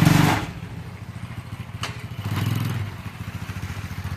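A small, slim, hand-assembled three-wheeled cart frame is ridden, giving a steady close chugging and rattling rhythm that swells midway, with no voices.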